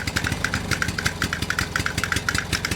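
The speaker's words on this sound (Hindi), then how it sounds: "स्कूटर की आवाज सुनो।" Toy scooter engine putters in a fast, even loop of mechanical pulses, loud and close with no talking over it.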